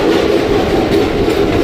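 A train rolls along a rail track near Singapore Road junction in Odisha, a steady close rumble of wheels with faint clickety-clack running continuously and evenly throughout.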